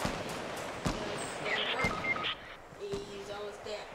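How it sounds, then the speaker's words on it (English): A few sharp, distant gunshots crack at irregular intervals in Fortnite, with faint electronic effects between them. "I hear a gunfire"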